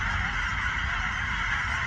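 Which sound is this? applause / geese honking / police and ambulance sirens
geese honking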